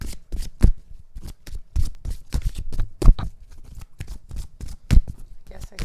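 Sigil Oracle cards riffle and shuffle close up in quick repeated bursts of crisp flicking, with soft pauses between the runs.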